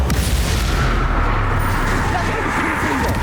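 A Bombarda explosion spell fires during Hogwarts Legacy combat on Nintendo Switch, giving dense, loud booming blasts with rumbling low-end that runs throughout amid busy battle noise and some voice.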